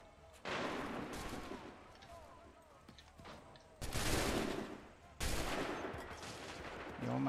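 Musket volleys in Assassin's Creed III crack out in three loud, sharp bursts, each a ragged massed discharge from a line of soldiers that trails off into echo, with an officer's shouted commands between them.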